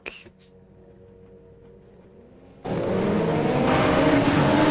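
Race cars launching from the grid at the Red Bull Ring in a Formula-style racing video game: a quiet idle stretch, then a sudden loud, sustained roar of many engines.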